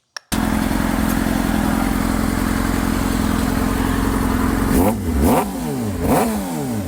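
A 2009 Suzuki GSX-R 600 sport bike engine runs close by at a steady, loud idle, then blips the throttle in three quick revs near the end.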